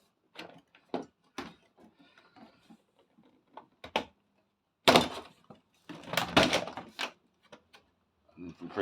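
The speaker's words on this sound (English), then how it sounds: "Then take the door itself off." An Asko dishwasher door being removed, with close clicks, knocks and a couple of louder scraping, rattling clunks of metal panels between quiet gaps.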